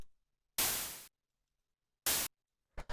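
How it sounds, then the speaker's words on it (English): Raw, unfiltered white noise synthesized in Operator, loud broadband hiss in two separate bursts of about half a second and a quarter second, plus a short stuttering fragment at the end, with silence in between. "The noise ride is made with operator. So all this is, it's just white noise."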